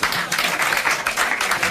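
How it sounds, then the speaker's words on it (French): Brief, polite applause from a television studio audience in 1984, a scattered patter of clapping that stays steady and modest for under two seconds with no voices over it. "quelques applaudissements de politesse, mais ça va pas loin"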